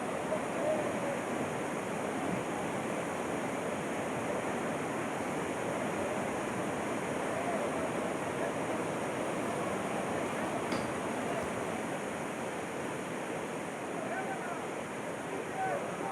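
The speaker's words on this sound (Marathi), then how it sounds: "हा पानवल धबधबा आहे" Panwal dam waterfall in Ratnagiri, swollen by heavy monsoon rain, roars as a dense, constant rush of falling water that stays loud and unbroken throughout.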